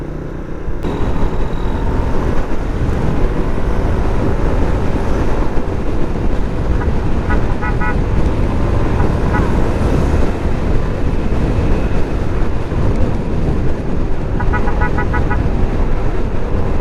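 Oncoming cars pass on a bumpy road under construction during a motorcycle rally ride, heard through a loud, steady rumble of wind and engine noise with occasional faint horn toots.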